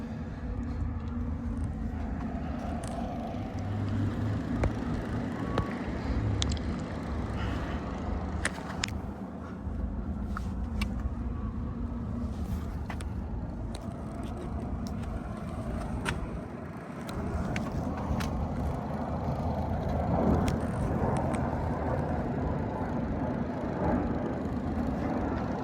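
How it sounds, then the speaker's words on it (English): A 1969 Jaguar XKE convertible with a 4.2L engine runs at a steady, close, low rumbling idle for the whole stretch. No voices are heard over it. "Okay, so the car fires up real easy."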